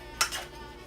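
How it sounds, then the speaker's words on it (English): A utensil briefly clinks and scrapes against a dish while a spaghetti squash dinner with sauce and cheese is being mixed, one sharp knock then a softer scrape, close and quiet. "Mix it."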